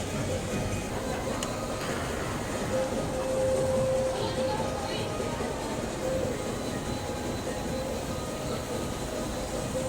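A large-format printer runs a printhead cleaning cycle, a steady dense mechanical hum and rumble with faint whirring tones, constant and fairly loud throughout.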